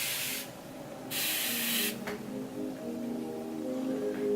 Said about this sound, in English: I'm just going to spray it with some Evian water.